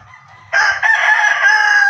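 A rooster crows loudly and close, one long drawn-out call that starts abruptly and holds steady. Faint clucking from other chickens comes just before it.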